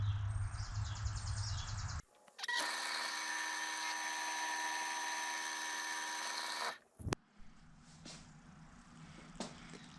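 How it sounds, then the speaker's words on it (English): A steady high-pitched whine of a drill press drilling a metal pin from a 200-4R transmission oil pump runs for several seconds, starting and stopping abruptly, with quieter shop noise around it. "we'll go ahead and drill out that hole"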